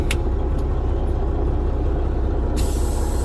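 Truck air brakes release a sudden sharp hiss over the steady close rumble of the idling engine, with fainter air bursts just before; no voices.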